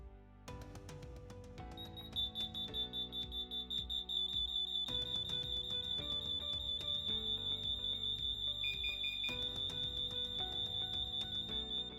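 Interlinked LINKD smoke alarms in a home sound together during a test, several layered, piercing electronic beeps pulsing in fast rhythm and overlapping into a loud, continuous alarm chorus.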